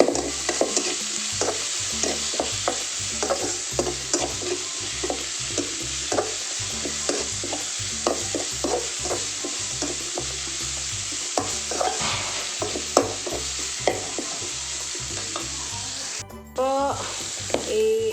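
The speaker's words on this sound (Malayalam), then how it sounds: "കറിവേപ്പിലയും കൂടെ ഇട്ട് കൊടുത്തു അത് ഇട്ട് വഴറ്റുക" Curry leaves sautéed in a pan for a sardine curry, with a continuous close sizzle. Rapid, rhythmic spatula scrapes run through most of the stretch, and near the end the sound briefly cuts out and then returns, louder.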